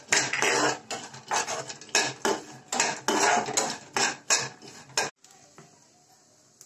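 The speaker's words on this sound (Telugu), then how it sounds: "పిస్తా, గసగసాలు వేసి కొంచెం రోస్ట్గా ఫ్రై చేస్తున్నాను." Pistachios and poppy seeds dry-roasting in a pan as a spoon stirs them, with loud rhythmic metallic scrapes and rattles in repeated bursts, then a sudden drop to a faint low sizzle.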